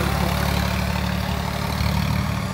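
A tractor engine runs at a tractor-trolley pulling contest in Mehal Kalan, Barnala, giving a steady, loud, low rumbling drone throughout with no break and no voices.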